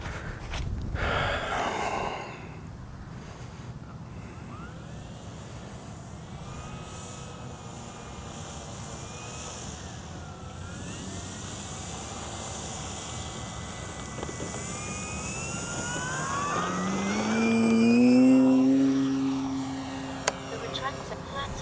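An H-King Yak-11 RC model plane flies through its propeller engine drone, which rises and falls in pitch as it passes and swells louder near the end, with someone talking intermittently over it outdoors.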